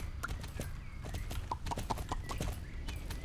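Rhythmic clip-clop of hooves from Lemmy, a spotted horse ridden in the horse-riding game Springdale, steady evenly spaced hoofbeats over a soft ambient music bed, with no talking.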